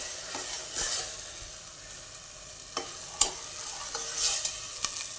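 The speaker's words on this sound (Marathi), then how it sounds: "आता 2 मिनटातून परतून देऊ आपण थोडंसं. हे असं चांगलं परतून घेऊ." Bajra amti mixture is sautéed in a pressure cooker: a soft steady sizzle runs under sharp scraping and clinking strokes of a spoon against the metal base, heard up close without speech.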